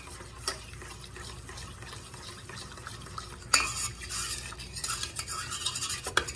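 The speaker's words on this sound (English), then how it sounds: "Stir it on up in your melted butter." A spoon stirs cocoa into melted butter in a pot, scraping and swishing steadily, growing busier and louder toward the end while making Texas chocolate sheet cake.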